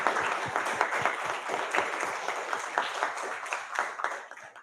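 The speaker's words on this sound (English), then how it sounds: "Give her a round of applause, please." An audience at a youth financial literacy forum gives a round of applause, a steady run of brisk, close clapping that carries on evenly and tapers off at the end.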